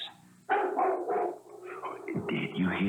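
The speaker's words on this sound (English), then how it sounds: "A dog barked 3 times." A dog barks three times in quick succession, loud and fairly close, followed by a rougher, noisy stretch of sound.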